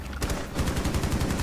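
Rapid gunfire bursts in a Rainbow Six Siege match, dense repeated shots sounding close and loud, continuing steadily with no speech over them.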